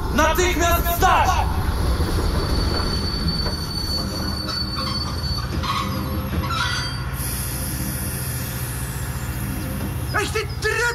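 A train rolls steadily with loud, sustained wheel squeal and a rumbling undertone, high screeches rising near the end, heard as a sound effect in a Polish audio drama thriller.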